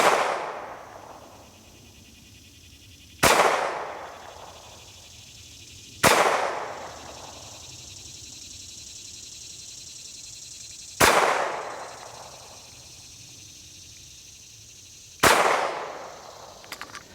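A SAR B6 pistol fires 115 grain Fiocchi ball ammunition, five sharp, loud single shots spaced a few seconds apart outdoors at a range, each with a long decaying echo tail.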